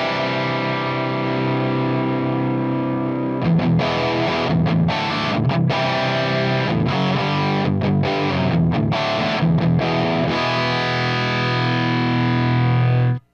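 Electric guitar played through a Revv G50 50-watt amp with the gain turned up and a boost engaged, giving a thick, heavily distorted tone. Sustained chords are broken by short, choppy riff stabs and ring out loud and steady throughout, with no talk.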